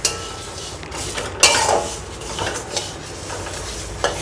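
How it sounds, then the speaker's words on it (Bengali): Whole cumin and dried red chillies dry-roast in an empty kadai over low heat, a metal spoon scraping and clinking against the pan in irregular strokes with soft rustling between, close and fairly quiet. "আমি এগুলো একটু হালকা করে ভেজে নেব শুকনো কড়াতে"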